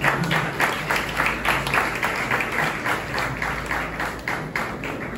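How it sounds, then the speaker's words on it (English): Audience applause at an MLK committee honors gathering in Santa Barbara, a sustained wash of many hands clapping steadily throughout, fairly loud and close, with no speech over it. "So give yourselves applause."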